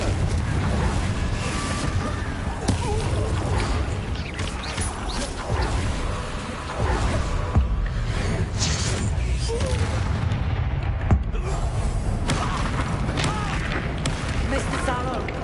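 Spell combat in the video game Hogwarts Legacy, with a Confringo fire spell exploding among dense, continuous battle noise: repeated booming blasts and impacts layered closely together at a steady loud level.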